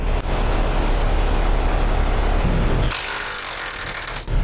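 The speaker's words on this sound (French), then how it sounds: "Alors enlevons les boulons." A power tool loosens the bolts on a truck's fifth-wheel coupling with a loud, continuous grinding roar that shifts abruptly in tone partway through, then carries on rattling nearby.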